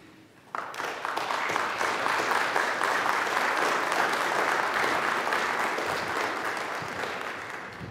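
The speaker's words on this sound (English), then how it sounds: "we can receive her with our applause as well" Church congregation applauding to welcome a newly baptized child, a warm, steady round of clapping from many people that begins suddenly after a quiet moment and carries on evenly, slightly softening toward the end.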